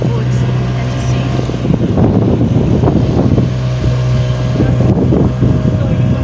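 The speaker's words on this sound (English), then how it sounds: "See what's standing and the boat is moving." A motorboat cruises on the sea off Mombasa with a steady engine drone, under a continuous rush of wind buffeting the microphone.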